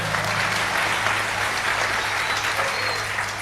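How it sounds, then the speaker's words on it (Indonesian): Sustained applause from a large crowd at a religious gathering, dense and even throughout, with a low hum underneath. "nggak pernah ngelihat Gus Iqdam, tepuk tangan dong."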